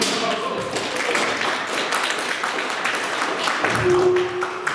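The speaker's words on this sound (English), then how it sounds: "Come on, give a round of applause." A small audience claps for two volunteers called up at a SUNY Oneonta event, a dense, steady patter of many hands filling the room at moderate loudness from start to finish.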